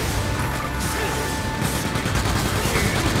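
Gunfire in the video game Freedom Wars, a dense continuous barrage of shots and crashing impacts mixed into loud battle noise, steady and close throughout.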